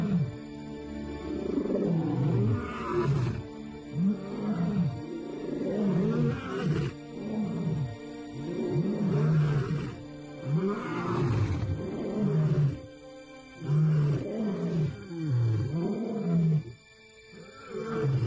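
Male African lions roaring in the wild, a sequence of deep, close, rhythmic grunting roars that rise and fall in repeated bouts.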